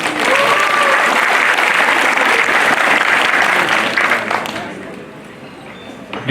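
Loud applause from a large crowd at a talent show results event fills the room, then fades out over the final seconds.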